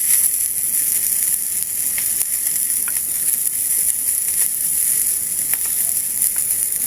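Meatballs drop into a pot of pork-cube soup with a loud, steady sizzle and fry-like hiss that holds throughout, with faint stirring clicks underneath.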